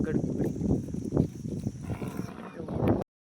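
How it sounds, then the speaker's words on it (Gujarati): Cows lowing as a herd is led to the water trough on a Gir cattle farm at late afternoon, several moos rising over a steady outdoor rumble with faint voices in the background. "જોઈ શકો છો આપણે ગાયો બધી હાલી આવે છે."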